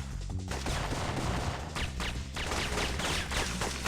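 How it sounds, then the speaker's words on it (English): Repeated shotgun blasts from the Syphon Filter video game, several loud bursts in succession over a busy in-game soundscape, with no talk. "Shotgun."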